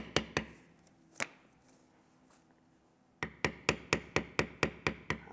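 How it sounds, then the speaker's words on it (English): A leather-tooling beveler is struck with a mallet along a tooled line, giving sharp close knocks, a few scattered taps, a pause, then a fast even run of strikes. "Line continues, so I keep beveling."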